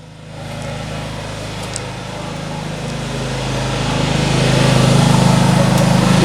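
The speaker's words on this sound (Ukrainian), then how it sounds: "В общем-то, 6 часов генератор робить без перериву." A portable generator running nearby, a loud steady engine drone that swells slightly and holds constant throughout.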